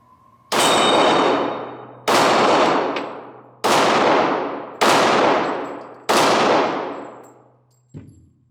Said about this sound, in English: Okay, so 5 rounds. Let's do some shooting.